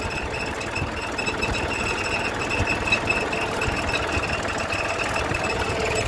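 A tractor engine runs in a farm field with a constant, droning, close rumble and a thin high whine on top. It stays steady for the whole stretch with no voices.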